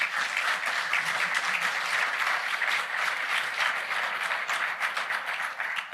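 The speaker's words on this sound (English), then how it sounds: "let's give him an applause, please." Steady applause from a crowd, many hands clapping continuously at a moderate distance, sustained without a break.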